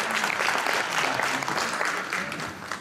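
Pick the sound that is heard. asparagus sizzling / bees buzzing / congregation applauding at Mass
congregation applauding at Mass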